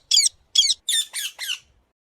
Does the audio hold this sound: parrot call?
yes